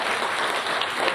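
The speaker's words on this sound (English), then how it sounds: "Another round of applause." Audience applause at a conference closing ceremony on human and wildlife trafficking in Malawi, a dense, steady wash of many hands clapping in a hall, brief and moderately loud.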